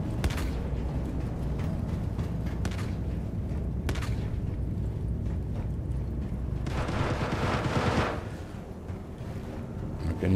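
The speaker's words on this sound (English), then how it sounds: "I can hear some fire going on." Distant gunfire in the Star Citizen video game during a mission to evict illegal occupants. Muffled bursts and scattered sharp reports sound over a steady rumbling ambience, with a louder crackling burst near the end.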